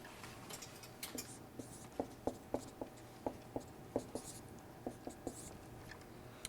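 Marker or chalk taps and strokes on a board while a resonance structure of an amino acid is drawn, giving a string of short, sharp, close ticks in an uneven rhythm under quiet room tone.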